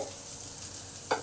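Potatoes frying in a pan, a soft steady sizzle with a faint crackling hiss, close and continuous, ending with a brief sharper clink or scrape, no voices.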